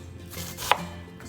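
A knife chopping red onions gives one sharp close chop on a board over a low background hum, with no voices.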